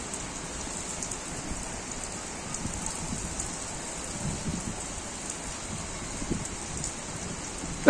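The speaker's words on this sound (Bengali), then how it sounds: "অস্থির বৃষ্টি, এই যে দেখতে পারতেছেন" Heavy rain pours steadily on surfaces in Dhaka, a dense, continuous hiss at moderate volume with no voices over it.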